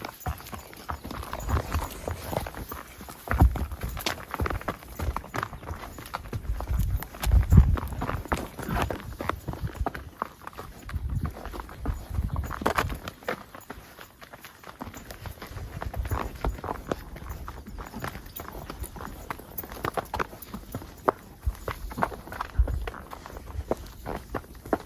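Red the mule walks with a rider on a mule ranch, hooves clip-clopping in a steady uneven rhythm close by, with faint chatter and outdoor ambience underneath.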